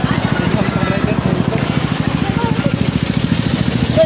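Motorcycle engine running close by, a loud, even, rapidly pulsing putter that holds steady throughout, with people talking over it.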